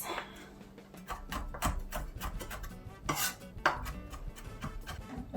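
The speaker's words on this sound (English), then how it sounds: "let's mince the garlic and also the pepper" A knife minces garlic and chili pepper on a cutting board, quick irregular taps and chops close by with small scraping sounds between them, quiet and without talk.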